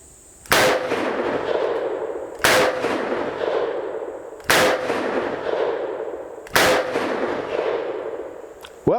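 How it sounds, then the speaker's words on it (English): A Taurus Raging Hunter revolver in .460 S&W Magnum fired double-action: four very loud, booming shots about two seconds apart, each followed by a long ringing decay. "I'm going to do 4 maybe kind of rapid fire double action shots and see what I can do with it"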